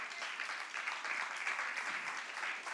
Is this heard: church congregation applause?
yes